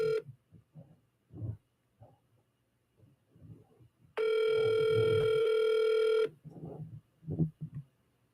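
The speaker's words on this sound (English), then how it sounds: "Making a call." An outgoing phone call for a prank goes unanswered, one long electronic ring tone sounding for about two seconds in the middle, with someone talking quietly before and after it.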